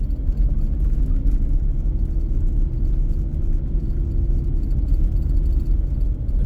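A car climbs the highest-elevation road in New England, its engine and road noise a steady, close low rumble with a constant mid-range whir throughout and no talking.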